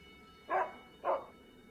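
A dog in the horror game Dracula 3 gives two short barks about half a second apart, moderately loud over a faint low ambient hum.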